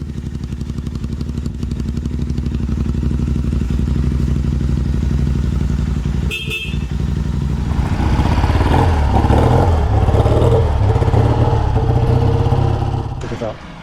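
A 1964 Triumph Thunderbird motorcycle engine runs under a rider, a loud close throbbing rumble that briefly dips with a sharp metallic click, then rises again with more rattle before easing at the end.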